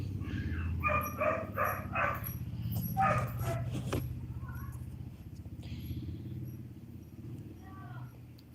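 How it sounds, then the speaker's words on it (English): A dog barks several times in short bursts near the start, loud over a steady low hum, then someone talks over faint background sounds. "The dog is barking also."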